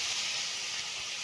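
Water in a pan with cauliflower curry, chilli powder and a little oil, heated to a boil, giving a steady close hiss and bubbling with no pauses.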